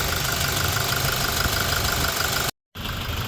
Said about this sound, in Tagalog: Tapos pakikinggan natin yung makina ni boss